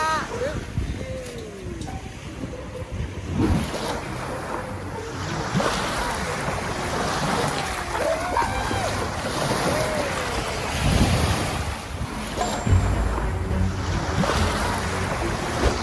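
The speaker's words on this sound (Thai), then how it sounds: "คลื่นลมก็สงบดี" Calm sea waves wash at a beach in a steady, soft roar with wind buffeting the microphone, continuing for about sixteen seconds while people talk nearby.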